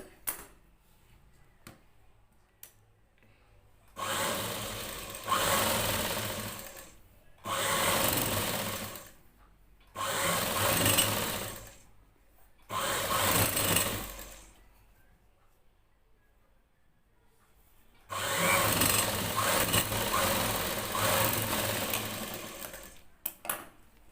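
A sewing machine stitching a plain blouse runs in several bursts of a few seconds each, separated by quiet pauses, loud and close with no talking over it.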